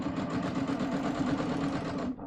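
A sewing machine stitches a pant hem in a fast, even run of close mechanical chattering that keeps going at steady speed and then stops abruptly.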